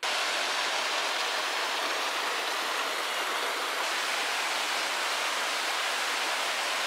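A low river on a Drakensberg hiking trail near Cathedral Peak flows with a constant, even rushing hiss, steady and moderately loud, with no voices or other sounds breaking through.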